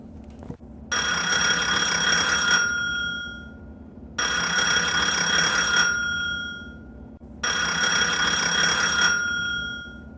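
A telephone rings three times in evenly spaced, loud bell-like bursts, each about two seconds long, with quiet gaps between and no talking.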